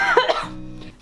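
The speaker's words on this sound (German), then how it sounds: "Und der Husten ist schlimmer geworden," A single harsh cough, close and loud, followed by a short rough throat sound, from someone with a worsening cough during a difficult Corona illness.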